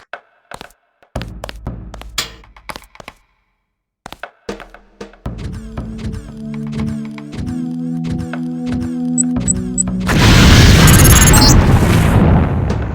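An explosion in the Deus Ex training level sets off near a security bot: a string of sharp pops and thumps, then a sustained tonal mechanical drone, then a loud, dense blast burst that trails into noise.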